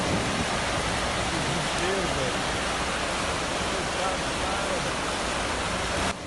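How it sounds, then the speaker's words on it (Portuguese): Storm floodwater pours down a small creek turned into a huge waterfall, a dense, loud, unbroken roar of rushing water filling the whole stretch, with a reporter's voice partly buried beneath it. "A tempestade transformou o pequeno riacho numa enorme cachoeira."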